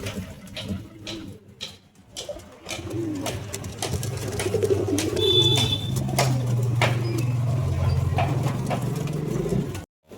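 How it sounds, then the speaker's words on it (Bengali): A male Rampuri pigeon in a loft gives a run of low, throaty coos that swell and carry on for several seconds, close by, with faint bird rustles and thumps around it and no talking. "এই যে রামপুরি নর ডাকাডাকি করছে।"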